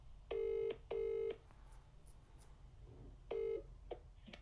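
A telephone keypad sounds as a call is placed: three sustained dialing tones, two close together and one after a pause, followed by a couple of short beeps, faint and alone.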